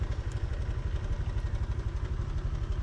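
A motorcycle idles in a parking lot in Phuket, its engine giving a steady low, pulsing chug with a slight mechanical clatter, close by and alone without speech.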